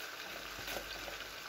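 Rice frying in a pan with onion and chicken breast for pilaf, a dense, steady sizzle with faint stirring scrapes, close and even throughout, with no talking.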